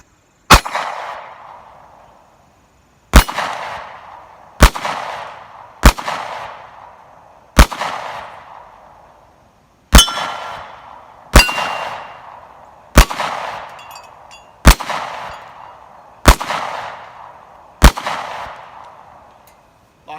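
SCCY CPX-2 9mm striker-fired handgun shooting with a polymer frame, about twelve loud, sharp reports spaced roughly one to two seconds apart, each with a ringing decay, and a longer pause after the first shot.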